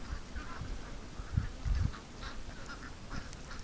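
Ducks quack in a loose group by a creek, several short calls scattered across the moment at moderate distance over low outdoor rumble.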